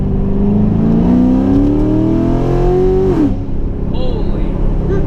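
A straight-piped 2016 Corvette with headers and a catless X-pipe accelerates hard in second gear, its loud, close engine climbing steadily in pitch for about three seconds before abruptly dropping off into a lower, rumbling idle-like drone.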